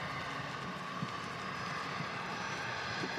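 Aircraft engine noise at Manchester Airport forms a continuous, even roar with a steady hum. It sounds moderately distant and holds unchanged throughout, with no voices present.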